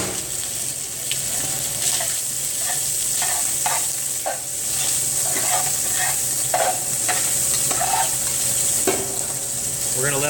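Sausage and onions browning in a couple of tablespoons of oil in a hot pot for red beans and rice: a loud, continuous sizzle broken by repeated scraping stirs, with a tap or water sound briefly in the background.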